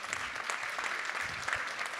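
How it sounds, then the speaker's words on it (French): Audience applause for a guest at a live stage event, continuous brisk clapping from a large crowd, steady and fairly close, with no talking over it. "On va l'applaudir très fort"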